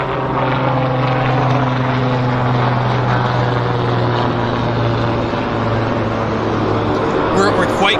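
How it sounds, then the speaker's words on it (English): Aircraft taxiing near the South Terminal at Vancouver Airport give a steady, loud low engine drone with a constant hum throughout, and a person talks over it. "We're quite close to the aviation action here at the South Terminal. Lots of airplanes taxiing around and whatnot."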